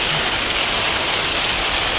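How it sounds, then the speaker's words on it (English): Waterfall in a soft red sandstone gorge, a dense, steady broadband rush of falling water, loud and close with no breaks. "okay, we've got the waterfall"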